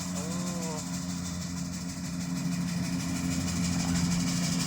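A Kubota combine harvester's engine runs at a steady low drone with a humming vibration in a rice field. A brief voice is heard at the start.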